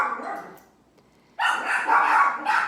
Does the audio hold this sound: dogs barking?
yes